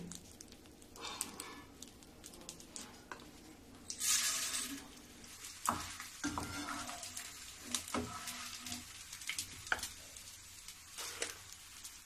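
Gond, an edible gum, being deep-fried in ghee, giving a soft, steady sizzle with faint stirring and scraping noises, quiet and close with no talking.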